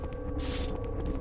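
Weapon switch to the shotgun in the Resident Evil 4 video game: a short mechanical clack and rattle around the middle of the moment, over a steady low game hum.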